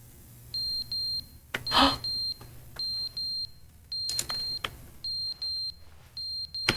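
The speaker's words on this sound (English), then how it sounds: "Where's the alarm sound coming from?" Electronic alarm in The Stanley Parable video game, repeated pulsing high beeps in short bursts with gaps, alongside a few sharp knocks and clicks.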